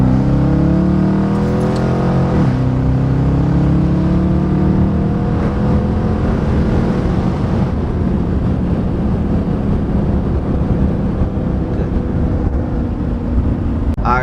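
A Dodge Charger engine roars loudly up through second gear, pitch climbing steadily as it accelerates hard, with wind rush and no talking.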